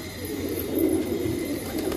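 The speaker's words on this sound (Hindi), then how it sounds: "ये पाकिस्तानी गोल्डन है, ओरिजिनल गोल्डन कबूतर है।" A Pakistani Golden pigeon, an old breed, cooing nearby in soft, low, rolling murmurs that rise and fall for about two seconds over faint background hiss.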